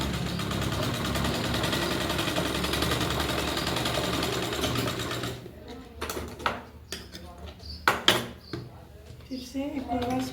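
Sewing machine stitching a katori-cut blouse shoulder seam, a steady whirring run for about five seconds that stops, followed by scattered clicks and handling knocks with some talk.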